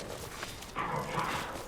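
A dog barks in the Barren Swamp area of the video game Lies of P, a few short yips and barks at moderate distance against a steady game ambience.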